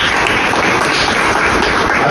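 At a Hindi celebration in New Delhi, a crowd gives loud, sustained applause for an honoured guest, with many hands clapping in a dense, even wash that holds steady throughout.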